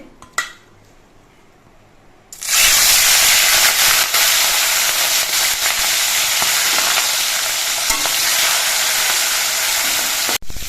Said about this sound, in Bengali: এবার নুন হলুদ মাখানো চিংড়ি মাছটা ভেজে নিচ্ছে